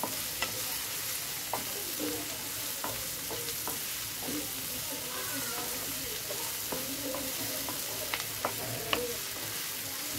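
Onions stirred with salt in a home kitchen pan while making a quick children's breakfast give a steady soft sizzle, with scattered utensil scrapes and clicks throughout; no voices.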